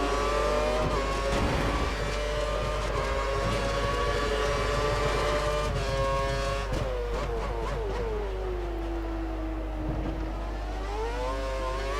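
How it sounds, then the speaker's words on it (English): F1 2013 racing car engine revving at high pitch through Monaco's tunnel in a video game, a sustained loud whine climbing and shifting in steady tones, with no talk. "Back on the throttle into the tunnel once more."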